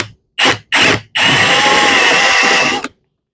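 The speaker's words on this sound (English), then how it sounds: "So I'm just going to use a 1/4-inch drill bit. Should make pretty short work of this. It's already turning the rivet." A drill fitted with a 1/4-inch bit bores out a rivet on a Lifetime Tamarack Angler kayak frame. It gives two short close, loud whirring bursts, then one sustained grinding run of about two seconds that stops abruptly.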